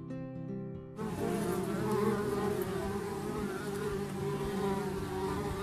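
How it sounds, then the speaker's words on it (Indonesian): A bee's steady, close buzzing drones on after a brief quiet tonal start, holding level and continuous to the end. "Lebah"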